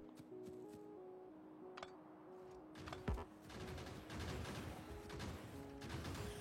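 Turret guns fire in a video game, a loose stream of crackling shots and bursts that builds from the middle onward over steady in-game tones and ambience.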